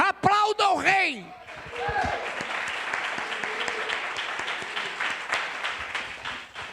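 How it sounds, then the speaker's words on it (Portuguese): Members of a church congregation break into loud, sustained applause after a short burst of shouting voices, the clapping continuing as a steady wash to the end. "Aplauda o Rei!"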